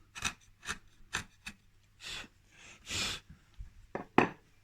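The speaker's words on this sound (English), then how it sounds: "we could just take the ends of that off with the chisel" A chisel pares broken-out ends off a wooden sash window weight door in a joinery workshop: short scraping strokes repeat close up, with a few longer rasping cuts.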